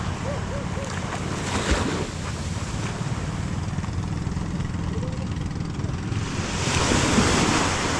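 Surf washing onto a beach shore, a steady broadband roar with a louder surge of breaking waves near the end, plus some wind noise on the microphone.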